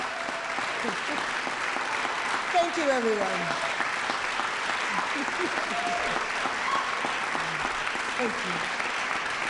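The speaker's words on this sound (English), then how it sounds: "As she is getting applause, let's listen in." An audience applauds through a mayor's State of the City address welcome, a steady wash of clapping while the speaker briefly thanks the crowd over it.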